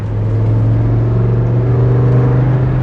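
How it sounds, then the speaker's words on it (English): A steady, droning BMW M5 engine intake hum fills the cabin, loud and constant with a deep buzzing tone throughout. "That's the sound that I came for, that intake noise."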